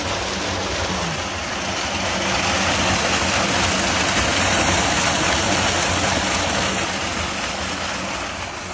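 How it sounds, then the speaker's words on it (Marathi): A mud pump in a hydroponic setup runs steadily after a cyclic timer switches it on, giving a loud, continuous broadband whirring and rushing drone that holds level throughout with no voices. "एवढ्या स्पीडने ते फेकते मडपंप काम करतोय"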